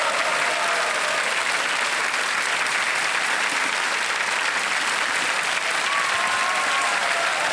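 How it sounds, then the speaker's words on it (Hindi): A studio audience at the Hindi quiz show Kaun Banega Crorepati applauds a contestant who has just won prize money: dense, even clapping that runs loud and unbroken from start to finish. "तालियां बज जाए इनके लिए।"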